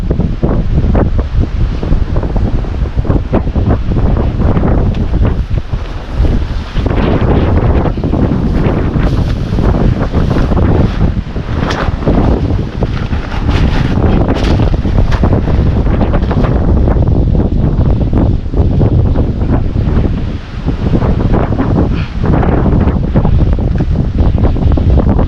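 Wind buffets the microphone on a boat, a loud, continuous roar with gusty bursts that lasts throughout, with no talk.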